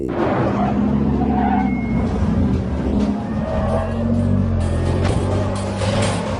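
A race car in a film rolls onto the track for a duel, its engine a loud continuous drone with revving swells throughout, dense and close, mixed with background noise and a few sharp higher accents toward the end.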